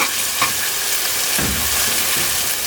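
Steady hissing sizzle of garlic and whole spices frying in a pan for biryani, with a couple of stirring scrapes, close and continuous without speech.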